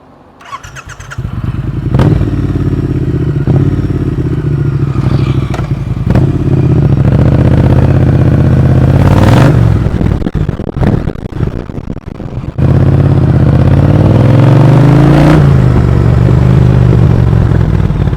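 A Triumph T120 motorcycle with a ZARD exhaust revs repeatedly, loud and close, with sharp blips and crackles between rising, rasping bursts over a steady idle.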